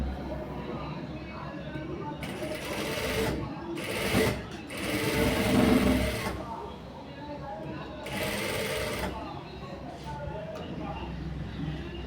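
Sewing machine stitching around a blouse lining, with several bursts of rapid buzzing stitching separated by pauses, close and clear, while someone talks quietly between and over the runs.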